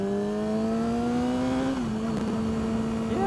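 Engine note rises steadily then dips and climbs again, a loud, buzzy drone from a vehicle fitted with a Yoshi exhaust with no baffle and an M4 Y-pipe, heard alone and close.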